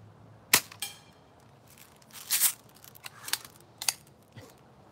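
A Daisy No. 155 air rifle fires several sharp, close snaps at irregular intervals, with quiet pauses between each shot.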